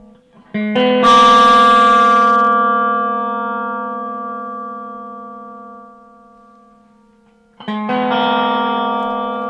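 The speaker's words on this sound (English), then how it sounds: "Now, can you hear that pedal, the Superdrive?" An electric guitar chord played through a Kokko Supa Drive overdrive pedal into a Kustom amp, ringing thick and gritty as it slowly decays, then struck again loudly.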